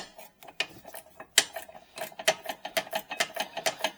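A socket wrench ratchets on a hidden brake bracket bolt at the rear of a 2018-2022 Chevy Equinox, with sparse clicks speeding into a steady, close run of rapid ratchet clicks in a cramped space.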